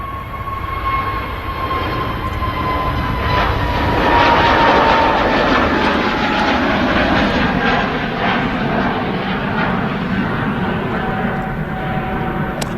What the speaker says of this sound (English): And this aircraft is on its way to Oslo.